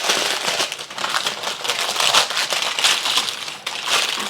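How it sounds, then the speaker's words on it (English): Parchment paper is crumpled by hand to line a pan for Chinese BBQ pork belly char siu, giving a steady, close crinkling and crackling that runs the whole time with a brief dip near the end, no voices. "if you crumple your parchment paper, it actually will sit better in your pan"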